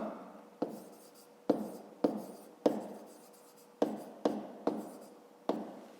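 A pen writes in a notebook during a fifth-grade math exercise, a quiet close series of about ten sharp taps and scratches at uneven intervals, each fading quickly.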